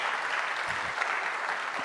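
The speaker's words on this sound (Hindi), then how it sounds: "जोरदार ताली बजाएंगे" Applause from a church audience fills the space as a steady, dense wash of clapping that stays loud and even throughout, with no talking.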